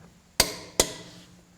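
A $100 Amazon impact wrench fires two sharp, loud hammering bursts on a bolt about half a second apart, each impact ringing briefly before fading.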